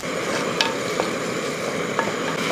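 Crushed shallots and green chilies are sautéed for a fish curry, a steady soft sizzle with a few light scrapes and taps of a spoon against the pan.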